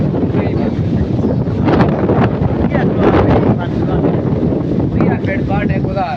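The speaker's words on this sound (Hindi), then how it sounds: "ये देख हवा चल रही है, रोज ये मौसम बना हुआ है।" Strong wind buffets the microphone outdoors in Peshawar during stormy weather, a steady loud roaring rush with gusty surges throughout.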